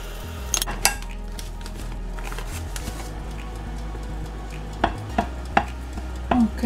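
A metal spoon clinks and scrapes against a bowl while scooping glutinous rice for measuring, a few sharp close knocks early and a cluster of clinks near the end over a low steady hum.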